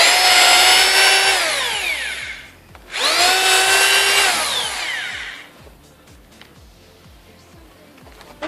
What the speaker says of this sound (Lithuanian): Tada iš karto su grąžtu įsigrėžiame skylutes.